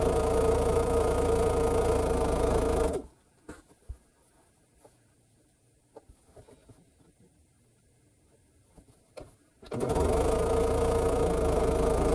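Quilt blocks are fed through a sewing machine, which hums loudly and continuously at the start, falls silent for several seconds amid faint handling clicks, then runs again steadily at close range.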